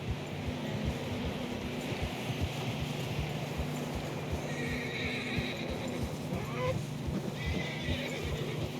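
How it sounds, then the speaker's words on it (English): Horses in the video game Red Dead Redemption 2 whinnying as they struggle through deep fresh snow, with steady hoof clopping and a wintry wind bed underneath, loud and close, no talk. "Horses are struggling."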